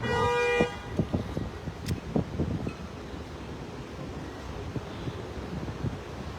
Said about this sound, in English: We got all kinds of people honking